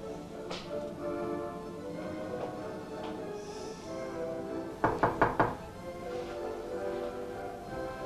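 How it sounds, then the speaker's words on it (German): A quick series of four firm knocks on a door sounds in a quiet room, close and evenly spaced, after a stretch of faint background noise. "Haben Sie mein Klopfen nicht gehört?"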